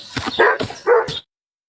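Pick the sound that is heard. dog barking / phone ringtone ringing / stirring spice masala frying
dog barking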